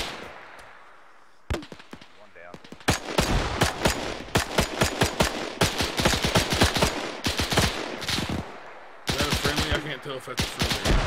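Rapid gunfire from a WW2 combat video game: dense bursts of machine-gun and rifle shots, loud and close, with brief pauses between volleys and some voices beneath.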